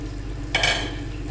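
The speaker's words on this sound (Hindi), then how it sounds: "बेसन को भूनते हुए मुझे 10 मिनट हो गए हैं" Gram flour and semolina being stirred and roasted in a pan for halwa, with a soft scraping and rustling stir that swells midway, close and moderately loud, with no voices.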